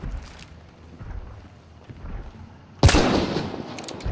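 A single loud, close Sparks rifle shot rings out in the video game Hunt: Showdown, bursting sharply out of a quiet, low ambient background and trailing off in a rumbling echo.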